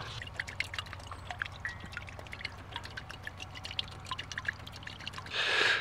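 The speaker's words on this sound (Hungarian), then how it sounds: "Kicsit lassan jön ki a víz a Decathlonos kulacsból" Water trickles slowly from a Decathlon filter bottle, a steady soft pour with small drips and splashes, close and fairly quiet, ending with a brief louder gush.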